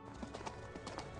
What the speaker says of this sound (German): Jetzt sind leider alle deine Pferde abgehauen.